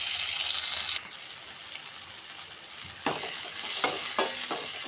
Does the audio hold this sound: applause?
no